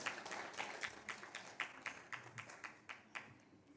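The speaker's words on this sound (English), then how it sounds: "A round of applause for Cheaper Technologies." A conference audience applauds a company at a gender equality bell-ringing event, a steady patter of many hands clapping that gradually thins and fades over a few seconds.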